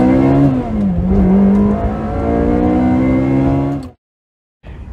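A 400-horsepower sports car engine revs hard with a rising, loud howl that climbs and holds toward 8,500 RPM before cutting off abruptly, then briefly resumes.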